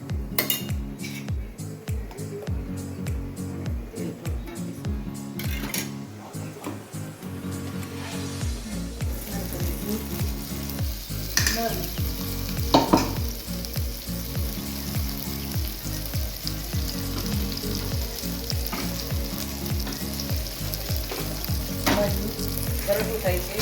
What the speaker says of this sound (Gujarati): હવે એનો થોડોક વઘાર કરીશું. એક ચમચી ઘી નાખીશું.